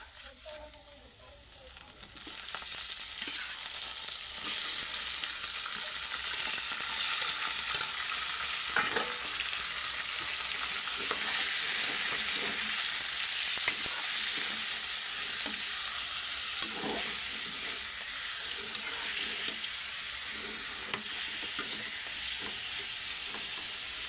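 Chicken meat for adobo dropped into a hot pan, then a loud continuous sizzle and frying hiss with scraping stirs, close up, and occasional talk under it.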